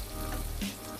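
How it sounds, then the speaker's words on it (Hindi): A short burst of onions frying in a pan for stuffed bhindi, a moderate hiss with a brief scrape partway through, close and fairly quiet with no speech. "प्याज को हमें ज़्यादा नहीं पकाना है"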